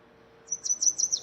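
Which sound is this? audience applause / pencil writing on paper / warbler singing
warbler singing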